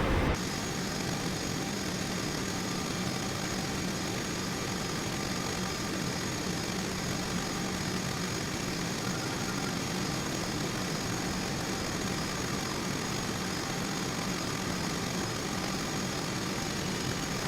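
An airliner's engines drone steadily as it taxis off a runway in a flight simulator game, a constant broad whine and rumble holding even for the whole stretch without speech.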